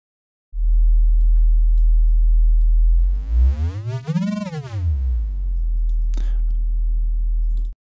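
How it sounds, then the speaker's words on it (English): A synthesized sci-fi igniter sound effect with flanger: a loud, steady low drone that sweeps up and back down in a swooshing, phasing arc midway, then holds and cuts off abruptly. "Let's add a little flanger to the master to make the sound a little bit more sci-fi."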